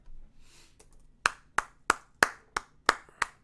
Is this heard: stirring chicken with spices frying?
no